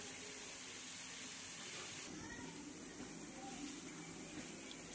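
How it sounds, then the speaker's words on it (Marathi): Green mung bean tikki frying in a pan, a steady broadband sizzle and hiss of hot oil running throughout, fairly loud and continuous with no talk over it. "अशाच प्रकारे आपल्याला सगळं फ्राय करून घ्यायचे आहे"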